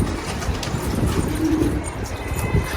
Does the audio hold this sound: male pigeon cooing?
yes